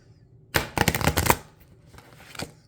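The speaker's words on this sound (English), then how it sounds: "Let's go ahead and shuffle the deck and see what comes out on the split" A tarot card deck is riffle-shuffled close up: a loud, dense burst of rapid flicking cards, then a quieter ruffle and a final snap, with no talking.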